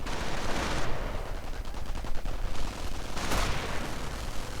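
Sniper shots and scattered gunfire ring out amid the constant rumble of a Company of Heroes battle, with sharp cracks and a brief burst of rapid fire over dense, noisy combat ambience.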